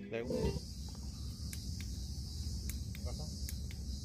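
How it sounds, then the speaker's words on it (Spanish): A swarm of mosquitoes outdoors makes a steady high-pitched insect whine that holds for the whole stretch, with a low rumbling background and a short burst of other sound at the start. "Miren la cantidad de mosquitos"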